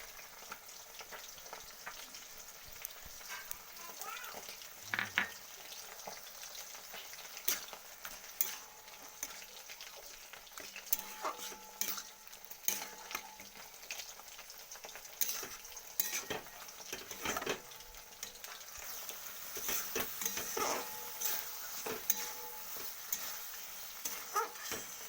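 Poppy seed paste stirred into bitter bathua greens and eggplant frying in a pan, with a soft steady sizzle, scraping spoon and clinks of utensil on metal throughout.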